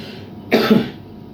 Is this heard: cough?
yes